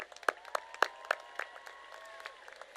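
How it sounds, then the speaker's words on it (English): A high school graduation crowd applauds the salutatorians and valedictorians. A few sharp, distinct claps ring out over a thin spread of clapping in a reverberant space, along with faint whistles or cheers. "Let's have another round of applause for salutatorians and our valedictorians."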